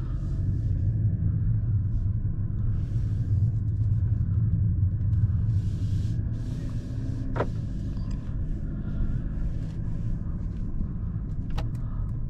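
Interior of a 2023 Mercedes C-Class driving at night: a steady low road rumble and engine hum throughout, with a couple of faint clicks.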